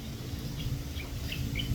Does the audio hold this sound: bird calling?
yes